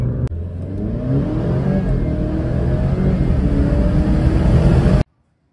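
An Alfa Romeo Giulia fitted with a Madness MPP V2 tune box accelerates on a night drive, its engine a loud, steady droning pull heard from inside the cabin, rising gradually before cutting off abruptly, with no talk.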